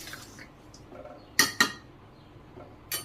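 Cooking pot being lifted off a village stove after chicken curry, a couple of sharp metallic clanks close together, then a later clink, over a quiet background.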